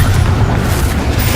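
A Confringo explosive spell in Hogwarts Legacy bursts as a loud, low, rumbling boom that fills the whole moment, close and heavy, with no voices.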